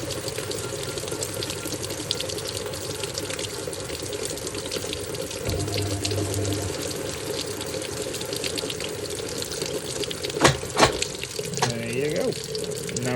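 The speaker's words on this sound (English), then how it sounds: "It continues to pulse the drum as it's filling" A Hoover 1400 washing machine fills with water while its drum pulses intermittently, a steady rush of inflow with a low hum and a few sharp clunks and churning sounds toward the end; a voice speaks faintly in the background.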